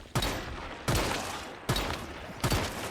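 Jaws pistol shots hit deviants in the video game Once Human: four sharp, loud reports roughly evenly spaced, each followed by a short ringing decay, with no talk.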